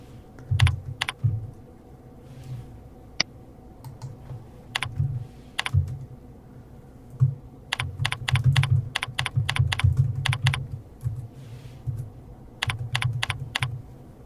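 Computer keyboard typing while entering customer details into business software, with bursts of quick clicky keystrokes in irregular runs, close and clear, with no talking.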